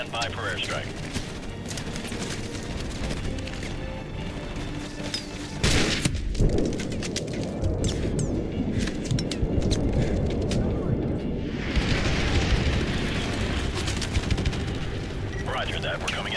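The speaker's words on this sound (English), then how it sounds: "Stand by for airstrike." Airstrike explosions rumble in the Call of Duty Modern Warfare shooter, with heavy booms and sustained low roaring blasts, accompanied by crackling gunfire and voices throughout.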